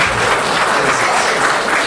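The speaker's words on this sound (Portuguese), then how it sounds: "Uma salva de palmas para a mitocondrial." Dense applause from an audience at a spiritual study meeting on mediumship, a steady wash of many hands clapping close and loud for the full two seconds, with no talk.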